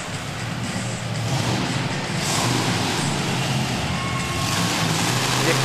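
A monster truck engine roars steadily through a freestyle run at a Corbin, Kentucky event, a loud continuous rumble with surging throttle, heard with wind and crowd noise and no clear talking.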